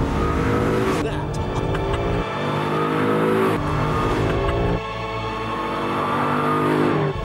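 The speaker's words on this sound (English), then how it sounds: "there's a little flap in the exhaust that opens. So the noise, well, that." A Maserati with its exhaust flap open roars under hard acceleration, rising through gears in loud surges with brief drops between shifts, close and dominant while someone talks over it.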